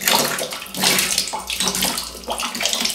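Water gushing from a pumped household supply line into a container, a close, steady splashing flow with slight surges and no talk.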